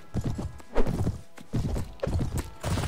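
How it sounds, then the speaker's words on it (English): Horse hoofbeats in the video game Mount and Blade: Warband as a horse charges, a quick run of clip-clop thuds in uneven bursts, fairly close and clear with no talking. "Horse just charged for 10 damage"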